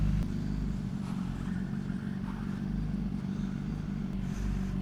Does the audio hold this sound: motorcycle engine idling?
yes